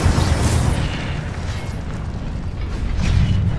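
A fire spell, Incendio, cast in a video game: a sustained roaring burst with rumbling low booms and crackling, loud and steady for a few seconds, swelling again at the end.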